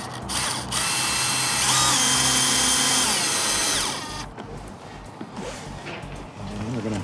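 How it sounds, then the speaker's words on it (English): A power drill whines loudly for about four seconds, driving a screw straight through a side step mat, then it stops and quieter handling and shuffling noises follow, with a voice speaking in the background. "We're just gonna screw it directly through the mat."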